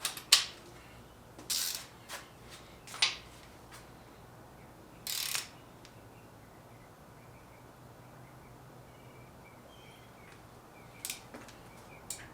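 A ratchet socket wrench tightens an aluminum oil fitting with a crush washer on a 6.0 LS engine build, giving a few short, sharp clicking bursts spaced apart over a quiet background.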